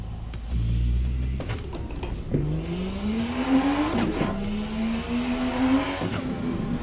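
A turbocharged BMW E46 engine in a racing simulator game revs close and steady, its pitch climbing, dropping sharply at a gear change near the middle, then climbing again.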